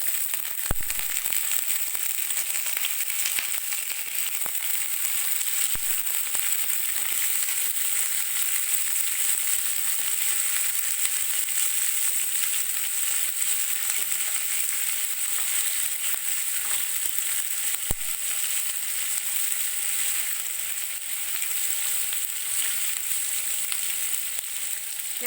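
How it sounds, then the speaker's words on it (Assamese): Onions sizzle in hot oil with cumin seeds in a pan, a steady close frying crackle with scattered pops that continues evenly throughout. "এতিয়া মই পিঁয়াজখিনি দিছোঁ।"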